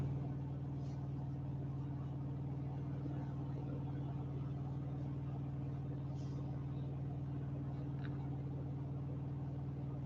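An old tow truck idles nearby with a steady, deep engine rumble and hum, while people talk over it throughout.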